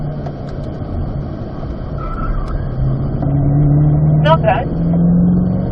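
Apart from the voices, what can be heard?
Chevrolet C8 Corvette engine on race track, upshifting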